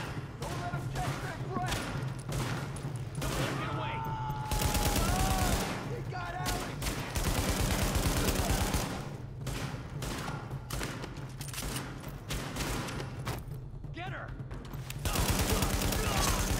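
Heavy gunfire in the video game The Division, with bursts of automatic fire and scattered shots repeating through the whole stretch while voices talk over the fighting.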